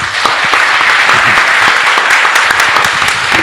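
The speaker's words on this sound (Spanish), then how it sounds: "un fuerte aplauso para él, por favor" An audience in a former private chapel claps for a lecturer at an anniversary event, a dense, loud, continuous round of applause with no voices over it.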